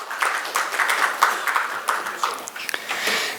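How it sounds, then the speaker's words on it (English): A small audience at an education panel gives scattered applause for a moderator, uneven claps of moderate loudness that pulse irregularly rather than forming a full roar. "Can we have a round of applause, please?"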